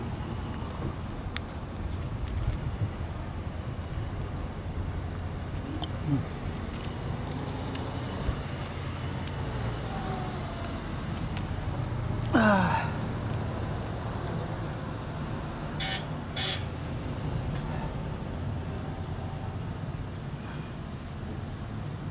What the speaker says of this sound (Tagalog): Grabe hangin kasi.